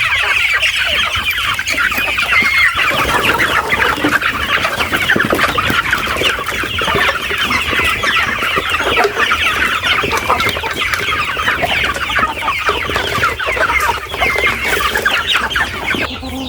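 Young chicks, a newly hatched batch, cluck and peep steadily while being given dry feed, a dense continuous chorus of chirps and clucks throughout with no talking.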